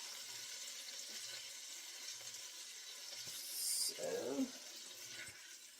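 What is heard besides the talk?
broth and cider poured into a hot skillet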